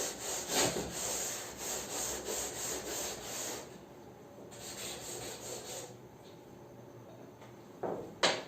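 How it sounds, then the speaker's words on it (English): A written line is rubbed off a board, a rhythmic scrubbing of rapid back-and-forth strokes, close and fairly loud, followed by quieter rubbing and a couple of light knocks. "So I will rub this last line because it's not needed now."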